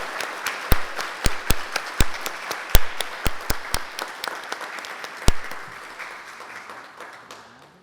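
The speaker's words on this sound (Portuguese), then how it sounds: "Agora gostaríamos de bater uma salva de palmas para todos os facilitadores que estão presentes aqui" Applause at a university environmental management event honoring facilitators: sharp individual claps ring out over a softer bed of clapping, close and distinct at first, then thinning and fading away near the end.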